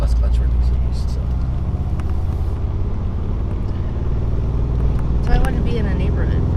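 A manual-transmission race car engine drones steadily from inside the cabin, low and continuous as gears are shifted in a residential neighborhood, with voices talking over it.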